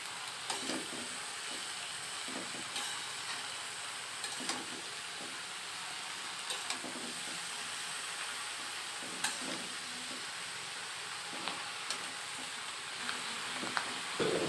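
Chopped snake gourd stir-frying in a wok, a soft continuous sizzle under periodic spatula scrapes and taps spread across the stretch, fairly quiet and close, no speech.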